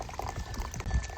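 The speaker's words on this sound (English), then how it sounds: "literally pouring my morning coffee as we speak" Morning coffee being poured outdoors, a short burst of liquid gurgling and splashing into a cup, close and fairly loud over a windy background.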